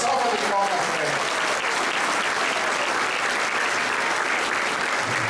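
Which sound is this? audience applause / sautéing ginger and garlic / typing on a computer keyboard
audience applause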